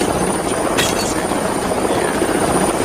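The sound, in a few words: helicopter landing in film Alien vs Predator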